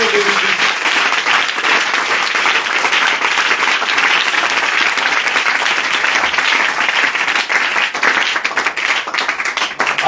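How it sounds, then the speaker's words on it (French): A church congregation applauds the Lord in sustained, loud, even clapping from a large crowd, filling the whole stretch without a break. "Est-ce qu'on peut acclamer très fort le Seigneur Jésus-Christ?"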